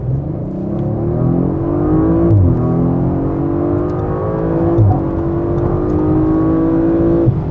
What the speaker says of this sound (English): That went quick, and due to the all-wheel drive, also a nice distribution, so a very smooth acceleration.